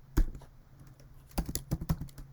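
Keys clatter on a computer keyboard as a formula is entered in Excel: one sharp tap, a pause, then a quick burst of several close, fairly quiet keystrokes.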